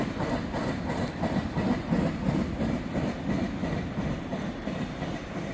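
A freight train rolls past close by in a steady, loud rumble of wheels on rail, with a tanker car's flat-spotted wheel adding a repeating rhythmic thump and clack through the passing.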